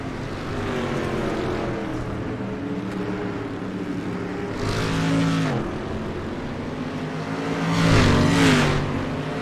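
Dirt street stock race cars rumble around a speedway track during warm-up, their engines droning steadily with two louder surges as cars rev and pass close by, and no talk over the noise.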